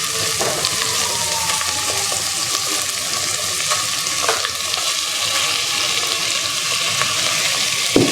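Tomato and spices fry in a pan for butter chicken, giving a loud, steady sizzle close up with occasional scraping stirs and light knocks.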